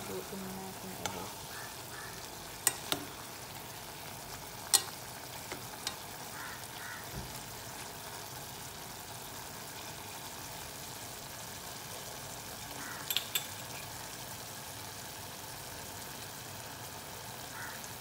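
Ilocano pinakbet with pakway vegetables and gabi simmering in a pot, a low steady bubbling hiss running throughout at moderate distance, with a few sharp clinks of a utensil scattered through.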